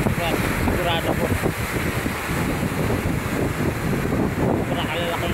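Strong amihan monsoon wind buffets the microphone on the coast, a loud, continuous roar with gusty rumble and surf behind it, while someone talks over it.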